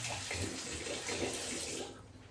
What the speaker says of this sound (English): under the hot water.